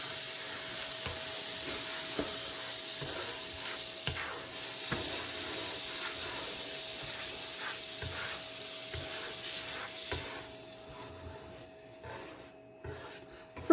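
Chicken patties fry on an electric griddle with a steady, close crackling sizzle and light popping, fading slightly toward the end, with no talk.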